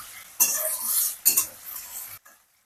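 Raw chicken being stirred in a hot pan for hakka noodles, with two sharp bursts of utensil scraping and clatter over a soft sizzle, then a sudden stop.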